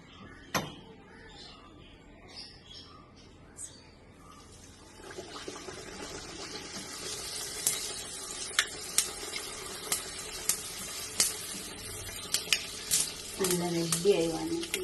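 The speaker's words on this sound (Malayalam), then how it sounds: "നമുക്കിത് പൊരിച്ചെടുക്കാം" Khameer bread dough fries in hot oil, a quiet start with a few clinks before a steady close sizzle sets in, dotted with crackling pops that grow busier toward the end.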